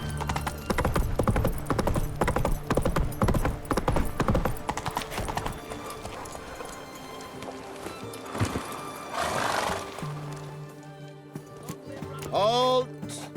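Roach the horse galloping in The Witcher 3, a rapid rhythmic clatter of hooves that is loud at first, then eases off and gives way to a neigh near the end, with game sounds around it.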